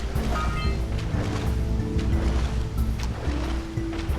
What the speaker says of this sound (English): And that's what being inside a waterfall is like,